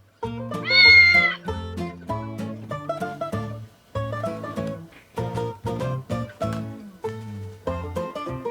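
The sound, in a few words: cat meowing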